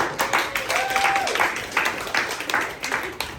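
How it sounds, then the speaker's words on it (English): An audience at a business talk applauds, with steady clapping that keeps going for a few seconds at moderate loudness and some faint voices mixed in. "I think that's worth a big round of applause"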